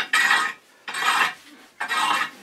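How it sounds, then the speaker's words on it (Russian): Wood ash being raked out of a burnt-down Russian stove, three separate rough scraping strokes in a steady rhythm, close and fairly loud with short pauses between them. "поскольку печка прогорела, дрова, там осталась зола, я ее не разгреб, то есть мы сейчас разгребаем ее"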